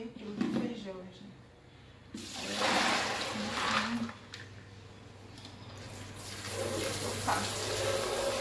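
Soaked beans, over half a kilo, are drained at a kitchen sink, with water splashing and pouring in bursts while someone talks over it.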